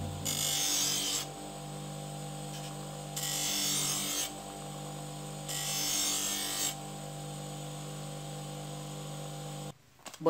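A knife blade meets an 800-grit expanding pulley on a running motor in three separate gritty grinding passes of about a second each, over a constant electric hum, ending with a brief clatter.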